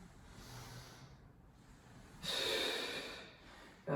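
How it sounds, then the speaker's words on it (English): A person doing a standing exercise routine breathes out hard: a faint, airy breath first, then a loud, close, forceful exhale lasting about a second. "Inhale. Exhale."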